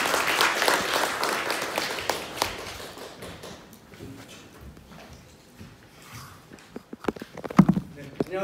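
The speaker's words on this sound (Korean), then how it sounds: "여러분 큰 박수로 환영해 주시기 바랍니다" Scattered applause at a forum welcomes a speaker, starting fairly strong and thinning out within a few seconds, followed by quiet room noise, footsteps and a few knocks.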